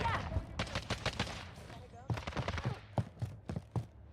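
Gunfire in the Call of Duty Warzone 2 video game comes as a run of sharp shots in uneven bursts, fairly close, with people talking over the action.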